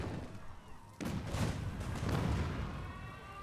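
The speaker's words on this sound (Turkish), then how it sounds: "Bak geldi tank sıktı bunlara." A tank firing on units in Spore, with a sudden boom followed by a cluster of muffled repeated blasts and rumbling impacts, moderately close.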